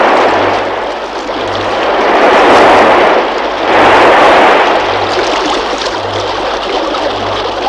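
River rapids on the Kazyr River in the Eastern Sayan crash against a log raft in a 1957 rafting recording, a loud continuous roaring wash that swells twice, with a faint low hum underneath.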